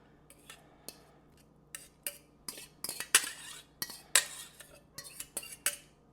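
Soft cooked pumpkin being scooped into a NutriBullet blender, a series of close clinks and taps of utensils against the cup, irregular and sharp, some louder than others, with no voices.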